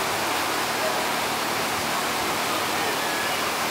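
Rain pours down steadily outside a riverside restaurant, a continuous dense hiss that stays loud and even from start to finish.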